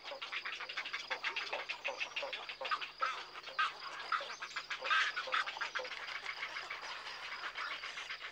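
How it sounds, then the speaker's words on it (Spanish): Noisy breeding colony of spoonbills, grey herons, little egrets and cattle egrets at Doñana, a dense continuous chatter of many overlapping harsh calls and croaks, steady and busy with no single bird standing out. "En esta ruidosa colonia de cría anidan cerca de 400 parejas de espátulas, 100 parejas de garzas reales, 800 de garcetas y más de 2000 parejas de espulgabueyes"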